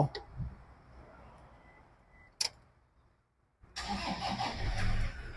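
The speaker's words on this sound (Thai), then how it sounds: "เดี๋ยวติดเครื่องให้ดูนะครับ" A click and a brief crank, a pause, then the 2.5-litre turbo engine of a 2009 Toyota Vigo Prerunner SmartCab manual pickup catches and settles into a steady idling rumble nearby.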